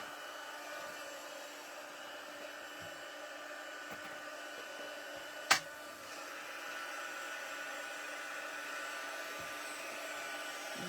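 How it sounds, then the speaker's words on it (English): Craft heat tool warming up, a steady close whooshing blower hiss that runs unbroken, with one sharp click partway through and no talk. "I'm going to heat up my heat tool."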